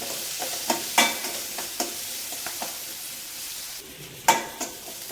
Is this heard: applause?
no